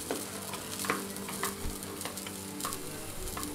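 Red onions, green capsicum and tomato sizzle steadily with groundnuts in a pan without oil for a groundnut stew. Soft stirring scrapes come through over the constant close frying hiss.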